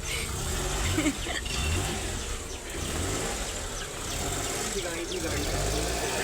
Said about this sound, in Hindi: हमारी गाड़ी बाहर निकलते हुए